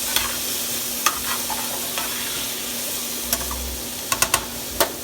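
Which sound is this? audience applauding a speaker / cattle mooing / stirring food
stirring food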